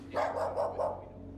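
A dog in a house room gives four quick, close barks in a row, then falls quiet while a low hum continues.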